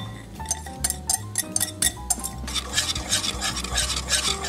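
A whisk clicks and scrapes steadily against a pot while lemon custard with egg yolks cooks on medium-low heat, a quick rhythmic metallic stirring with sharp clinks, close and clear with no talk.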